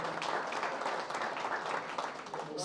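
Applause at a pizza workshop reopening, a moderate patter of clapping hands sustained for a couple of seconds with faint voices underneath.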